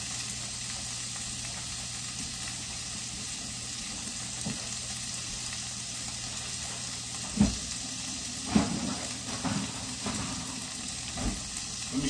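Frozen food frying in a pan gives a steady, close sizzling hiss throughout, broken by a few sharp pops and spits in the second half, with no voices.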